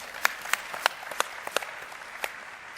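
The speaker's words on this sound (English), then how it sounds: "a round of applause" Sparse audience applause at a Galaxy S4 smartphone launch event in Johannesburg, a handful of distinct, sharp claps scattered unevenly over a few seconds in a large room.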